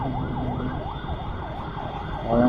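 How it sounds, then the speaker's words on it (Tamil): Ambulance siren wailing in a steady rising-and-falling cycle amid road traffic at night, loud and continuous over engine rumble, with a motorbike delivery rider on the road. "ஆம்புலன்ஸ் வருது."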